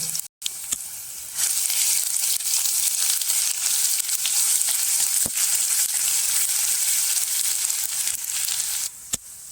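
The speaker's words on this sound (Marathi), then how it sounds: "आता आपण एक चम्मच आलं लसूण हिरवी मिरचीची पेस्ट घालून घेऊ" Ginger, garlic and green chili paste dropped into hot oil with cumin and asafoetida, bursting into a loud, sustained sizzle right after a brief quiet start, with a few sharp clicks and taps of utensils, close by and without talking.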